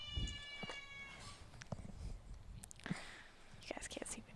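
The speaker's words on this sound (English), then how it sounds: "if he'll stop meowing" A cat meowing several times indoors, soft and fairly close, with quiet whispered talk and low background noise around it.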